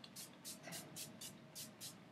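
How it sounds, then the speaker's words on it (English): Several quick, soft hisses of a makeup setting spray bottle in a regular rhythm, close and fairly quiet. "So I'll just spray that a few times and let it dry."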